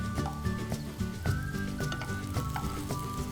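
Mukandar vadis sizzle and fry in a pan, a steady close crackle and hiss of oil running throughout, with soft clinks and stirring noises on top and no one speaking.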